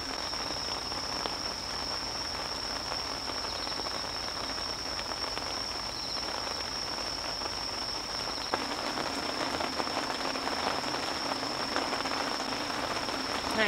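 Heavy rain pours steadily on a camping tent during a rainy campout, a dense, even hiss of drops with no pauses, moderately loud and close, with no voices over it.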